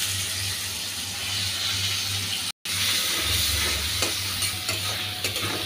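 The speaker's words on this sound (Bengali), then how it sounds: "পেঁয়াজ আর রসুনটা একটু ভাজা হওয়ার পরে গন্ধটা যাওয়া পর্যন্ত আর কি" Onion and garlic paste sizzle in hot soybean oil while being stirred, a steady close frying hiss with a brief gap partway through, cooked for a dish of spiny gourd, jackfruit seeds and prawns.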